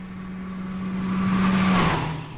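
A 2025 Toyota Corolla Hybrid drives off, its engine hum climbing steadily in pitch before easing back, heard briefly from inside the car.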